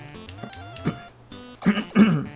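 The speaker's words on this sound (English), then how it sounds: "I really gotta keep clearing my throat" Someone clears their throat, a few rough bursts growing louder toward the end, over faint tonal background music from Wario Land: Super Mario Land 3.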